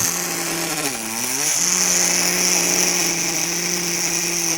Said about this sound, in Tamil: வந்து ட்ரில்லிங் போடுறான் பாருங்க.